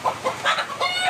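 Several close chickens cluck in short, bursty calls at a rural home, overlapping in quick succession and fairly loud against a quiet background.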